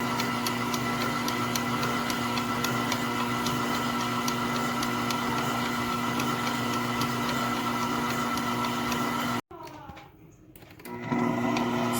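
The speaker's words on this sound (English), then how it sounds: "So we're just gonna beat it or cream it or mix it with our stand-up mixer." A stand mixer creams butter and sugar for buttery vanilla cookie dough, a loud steady motor whir with a rhythmic ticking beat, running continuously before stopping abruptly and briefly restarting.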